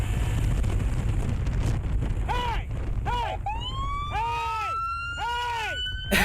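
A police siren wails in rising and falling sweeps from about two seconds in, loud and fairly close over steady wind noise and the rumble of a moving vehicle.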